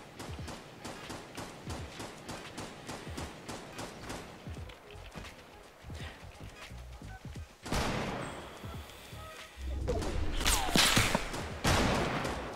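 Gunfire in a Fortnite match, with repeated sharp shots at a steady clip early on, then louder bursts and a denser barrage of rapid fire toward the end.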